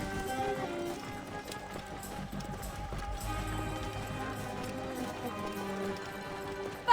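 Horse hooves pound in a fast, steady gallop in Assassin's Creed Origins, a continuous run under game music and ambience, with no clear talking over it.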